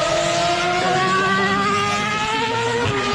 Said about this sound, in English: this is Ruben Barrichello in his 2009 Brawn GP car.